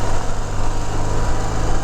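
A stock 1981 BMW R65S motorcycle engine runs through its original factory mufflers, giving a steady, quiet idle with an even low hum and faint mechanical chatter, heard close and alone.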